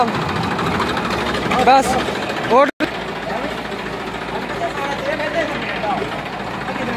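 Massey Ferguson 241 tractor engine idling with a steady, rough low rumble, close and continuous, with a brief dropout midway and people talking over it.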